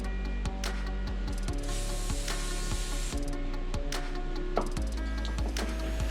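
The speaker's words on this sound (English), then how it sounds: "It blows the sand up against the plug to clean it up." A harsh, hissing rush of sand blasted by an air hose against a spark plug runs close up and continuously, with a low mechanical hum and scattered clicks.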